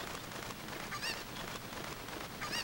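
Honking, clucking bird calls from a chicken in Ocarina of Time, two short bursts at about one and two and a half seconds over a steady hiss of game ambience, with no talk.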